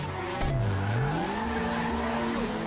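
In GTA 5, a car pulls away with a continuous engine drone whose pitch dips and then rises as it accelerates, at moderate level with no one speaking.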